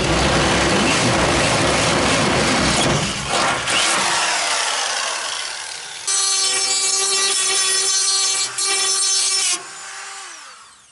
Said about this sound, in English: let me get the drill and start some drilling